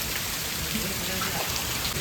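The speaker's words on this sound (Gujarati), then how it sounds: "12 વાગ્યાનો કન્ટિન્યુ છે આવો જ વરસાદ વરસે છે." Steady heavy rain pours down over flooded village fields in a dense, even hiss without pause, close by and loud throughout.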